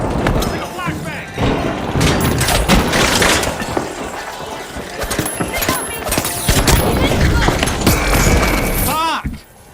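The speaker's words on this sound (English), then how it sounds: "Using a flashbang!" A flashbang grenade goes off in a fast-paced shooter video game, with loud, dense bursts and thumps of combat noise running through the whole stretch, mixed with a player's voice talking over it, then cutting off abruptly near the end.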